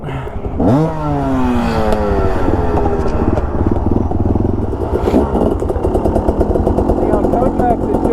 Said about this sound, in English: listen to that 2-stroke action